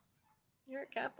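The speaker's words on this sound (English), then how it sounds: "I don't know if you can hear all them dogs barking or not." Dogs barking at a creepy outdoor location at night, a few quick, fairly faint yips and barks clustered at the end, heard behind a person talking.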